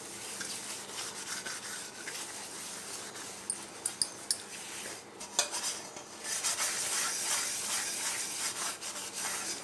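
A metal vessel scrubbed lightly by hand makes a steady, close rubbing scrape, broken midway by a few sharp clinks and then swelling into fuller strokes.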